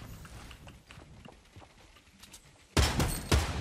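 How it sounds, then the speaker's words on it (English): Fortnite Battle Royale gunfire: quiet scattered distant shots and thuds at first, then a sudden loud close burst of rapid firing near the end. "I'm shooting that wall down."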